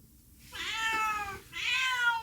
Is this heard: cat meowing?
yes